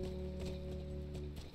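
Rapid hoofbeats of a galloping horse in the video game The Last of Us, over a steady synthetic background tone, rhythmic and close.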